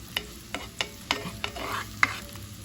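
Ground beef with onions and garlic is stirred in a pan, a spoon scraping in about six distinct strokes over a soft background sizzle, close and fairly quiet.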